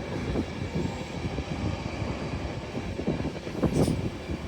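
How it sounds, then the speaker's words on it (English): A Class 91 electric locomotive with nine coaches and a driving van trailer rumbles past at York on the East Coast Main Line, a steady loud rolling roar with rhythmic wheel clatter and no voices. "These are 9 coaches with the 91 and this driving van trailer."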